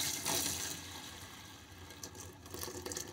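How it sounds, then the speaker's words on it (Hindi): Hot whey drained off homemade paneer is poured into a large pot in a home kitchen, a steady splashing, gurgling stream of liquid with a few louder sloshes near the end. "अब मैं ये एक बड़े बर्तन में डाल देती हूँ"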